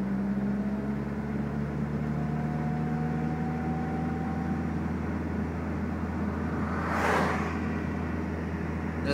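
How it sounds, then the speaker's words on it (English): Another car approaches along a road with a blind corner, its engine noise building gently under the steady drone of the recording car's turbocharged engine, then sweeping past in a brief whoosh near the end. "Car coming."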